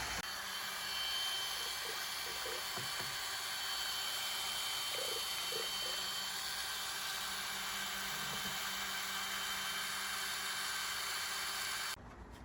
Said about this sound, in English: Now I'm just going to take a variable speed drill, and I have a mixing paddle on it